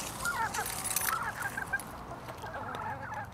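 Chickens cluck and squawk in a garden run at feeding time, several birds close by making overlapping, busy calls throughout.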